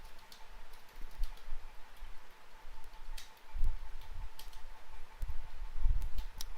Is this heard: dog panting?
no